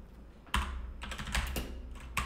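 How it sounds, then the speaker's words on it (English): Keys clatter on a new computer keyboard in a brisk, uneven run of close clicks and taps, with a few harder keystrokes standing out above a low steady hum. "I just put a new keyboard and I'm not used to."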